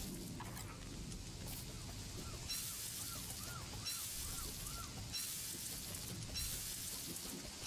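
Monster meat cooking over a campfire in Don't Starve, a steady crackling sizzle with soft repeated chirpy tones layered over it, continuous and even at moderate volume.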